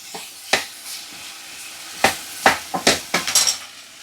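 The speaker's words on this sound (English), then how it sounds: "now they've softened down, we're going to add the potato. So that's the 3 medium potatoes diced up. We'll stir them through for a minute." Diced potatoes, three medium ones, stirred through softened ingredients in a pot for a 1940s wartime ration recipe: a series of sharp scraping knocks and clatters, sparse at first then quickening near the end, with a faint sizzle beneath.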